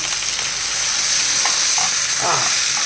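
Pomfret wrapped in banana leaf frying in hot oil, a loud, steady close-up sizzle with crackling and a few soft stirring or shifting sounds, with no speech.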